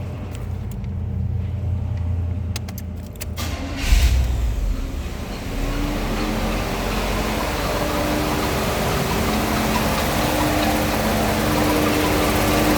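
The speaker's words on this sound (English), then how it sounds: "this pulley got a wobble. It's making the belt make a little noise" A car engine idles steadily with a whirring fan and a faint rhythmic squeal from a belt running on a wobbling pulley, recorded close under the hood after a brief clatter.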